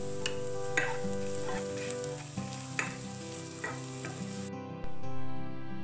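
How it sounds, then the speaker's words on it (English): Chopped chillies sauté in a pan for a Kerala-style egg curry, making a steady sizzle with scattered sharp stirring clicks before the sound cuts to a quieter tone near the end; no voices. "Add the chopped chillies and sauté it for less than a minute."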